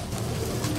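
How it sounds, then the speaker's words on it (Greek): Pigeons at a pigeon club celebration give a brief, low, throaty coo that murmurs steadily and close by for under a second, with no voices over it. "ωραία περιστέρια πάντως"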